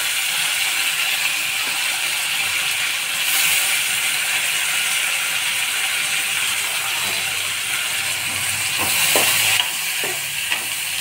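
Onion and tomato sizzle and fry steadily in very hot oil with garlic, a loud, continuous crackling hiss with occasional stirring clatter, and no talking.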